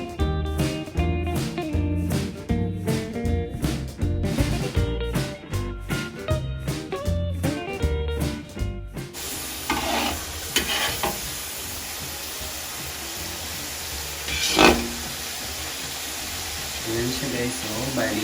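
After rhythmic background music ends, coconut milk cooks down into latik in a pan for biko in the Cagayan countryside, giving a steady, close sizzle and bubbling with occasional stirring.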